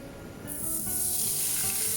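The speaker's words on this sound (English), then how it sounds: "now I've heated up about 3 teaspoons of olive oil, and we'll start off with cooking the sofrito first" Sofrito vegetables drop into hot olive oil and set off a loud, hissing sizzle that starts suddenly and stays steady to the end.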